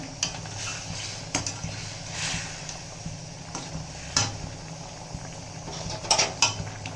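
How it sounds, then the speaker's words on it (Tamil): A spoon stirs brinjal curry in a cooking pot, giving soft scraping and occasional light clinks against the metal over a steady low simmer, close and quiet with no talking. "இந்த கத்திரிக்காய் உடையாமல் கலரி விட்டுக்கலாம்"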